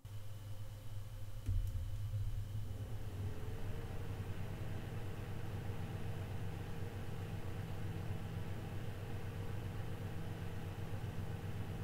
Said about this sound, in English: I will show you the actual sound that this cooler makes with the included fan running at its maximum speed of 1500 RPM